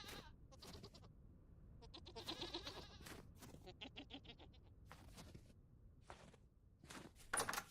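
Goats in the video game Vintage Story bleat in a string of short, wavering cries, some overlapping, over soft shuffling footstep sounds that continue between calls.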